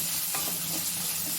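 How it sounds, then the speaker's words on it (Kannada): Onion frying in a pan for a mushroom butter gravy, a steady close sizzle with light stirring scrapes running throughout, no voices. "ಈರುಳ್ಳಿ ಹಾಕ್ತಾ ಇದ್ದೀನಿ. ಸ್ವಲ್ಪ ಫ್ರೈ ಮಾಡ್ಕೊಬೇಕು."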